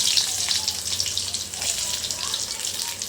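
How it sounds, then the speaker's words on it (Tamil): Chopped shallots frying in hot oil, a dense continuous hiss and crackle heard up close with no pauses throughout. "எண்ணெய் காஞ்சாச்சு நமக்கு கொத்தி அரிஞ்சு வச்சிருக்குன்னா சின்ன வெங்காயத்தை போட்டுக்கலாம்"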